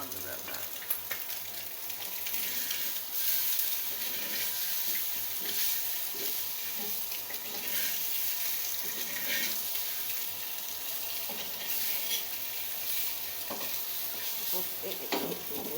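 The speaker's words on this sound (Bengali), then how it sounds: "অল্প তেলে ভাজছি" Boiled potatoes fry in a little oil, giving a soft, steady sizzle and crackle with occasional stirring scrapes, fairly quiet and close.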